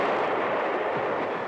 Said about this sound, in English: Cannon to the right of me, cannon to the left of me, cannon in front of me.